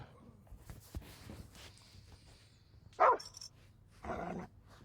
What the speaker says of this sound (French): normalement, c'est mon chien qui bouffe quelqu'un.